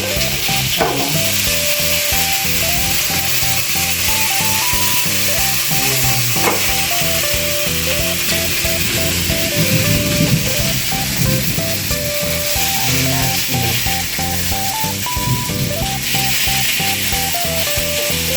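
Chicken inasal cooks in a wok without oil, a loud, steady sizzle and hiss running the whole time beneath tonal background music, with occasional stirring scrapes.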